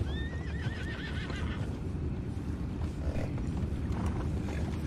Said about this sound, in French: Saute dans l'eau avec un cheval.